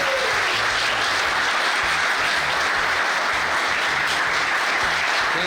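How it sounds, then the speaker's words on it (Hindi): A large audience claps in a continuous, dense roar of applause that stays loud and steady throughout. "जोरदार क्लैप कीजिए। 1 2 3 तालियां।"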